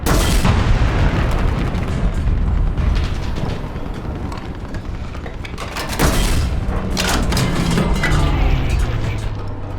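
Zrinyi I tank cannon rounds firing in War Thunder, a dense, continuous barrage of booming shots and rumbling blasts that stays loud throughout with no pauses.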